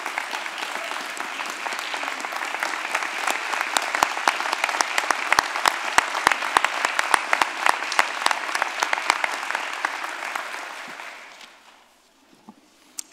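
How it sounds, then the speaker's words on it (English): A large audience applauds at a School of Music graduation ceremony, with dense, steady clapping holding for about eleven seconds before tapering off and ending in near silence. "Let us stand up and give them a round of applause."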